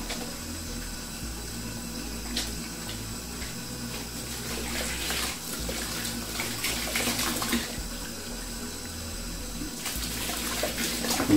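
Warm soapy water sloshes and splashes in a bowl as a telescope mirror is washed by hand, with continuous gentle swishing and occasional sharper drips and clinks.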